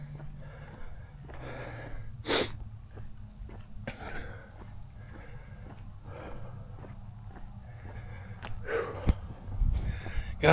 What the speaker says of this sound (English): God, I know I'm breathing hard.